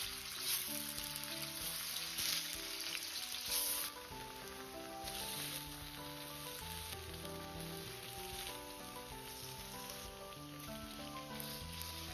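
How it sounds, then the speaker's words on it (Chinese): Tofu slices fry in rapeseed oil in a pan, a steady, fairly quiet crackling sizzle that holds evenly throughout with no talking. "接着把切好的豆腐一片一片的放入锅中。"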